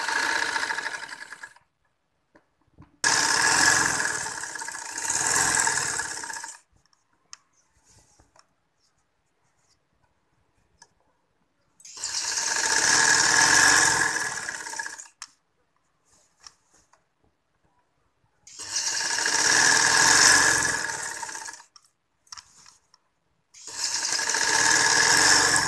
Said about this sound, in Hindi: अब हम इसके ऊपर से सिलाई लगाते हैं।